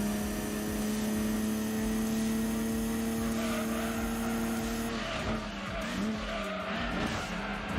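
A race car in Gran Turismo 2 howls at high revs, then the engine note drops as it brakes hard and the tires squeal and skid, all loud and close throughout.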